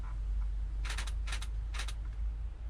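A Nikon Z6 II mirrorless camera firing its shutter with the sound enabled: three quick, soft clicks in a row, faint over steady low room hum.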